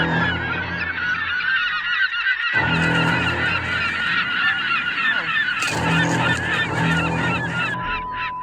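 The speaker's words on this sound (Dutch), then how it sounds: "wat we ook veel hebben hier aan de kust zijn meeuwen" Seagulls call over a beach on the seaside coast, a loud, dense chorus of repeated squawking cries. The calls overlap continuously, close to the listener, with brief gaps and bursts of sharper shrieks.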